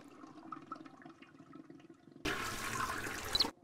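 A toilet flush in the video game Chaos on Deponia: a sudden loud rush of water starting after quiet background music and pouring steadily for just over a second before cutting off.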